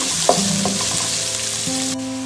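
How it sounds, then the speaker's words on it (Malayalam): Onions sizzle in hot oil as the base for a chicken curry, a steady close crackle with a few light stirring clinks and no voices. "അതിലേക്ക് ഞാൻ ഉള്ളി വാടാൻ വേണ്ടിയിട്ട് ഇടുന്നുണ്ട്"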